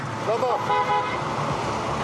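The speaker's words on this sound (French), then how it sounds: "Le trafic est de plus en plus dense dans les rues de Paris, notamment sur les quais de Seine" Dense slow-moving traffic on a Paris riverside street, where short car horn toots sound over a steady roadway rumble while a voice talks over the scene.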